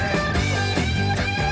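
A single guitar note is picked and bent, its pitch rising, then picked and bent again in short repeated phrases, loud and close with no talking.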